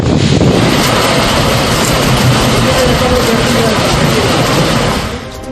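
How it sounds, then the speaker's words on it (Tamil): Heavy rain with strong wind in Ambur, Tirupattur district, a loud dense continuous roar of broadband noise that holds steady and then eases slightly at the very end. "திருப்பத்தூர் மாவட்டம் ஆம்பூர் மற்றும் சுற்றி இருக்கக்கூடிய பகுதிகளில் காற்றுடன் கூடிய கனமழை"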